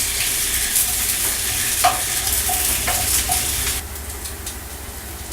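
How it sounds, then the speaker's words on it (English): Vegetables sautéing in oil in a frying pan while making chicken stock, a steady close sizzle and crackle with occasional stirring clinks against the pan, no talk. "We're just going to cook it around in the oil, let the flavors release and get a little bit caramelized."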